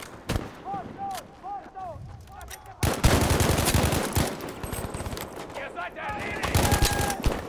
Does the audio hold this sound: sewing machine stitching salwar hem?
no